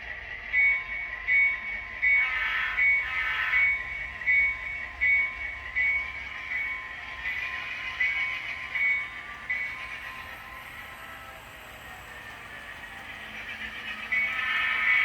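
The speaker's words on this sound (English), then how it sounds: "let's go ahead and get the passenger train rolling" An HO scale model passenger train rolls along its track with a steady, faint mechanical whir and light rhythmic clatter, a thin high whine running throughout.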